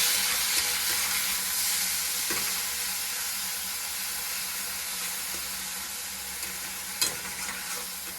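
Prawns fry steadily in a pan of hot oil, a dense continuous sizzle with a few small pops and stirring scrapes, fairly close and without any talk.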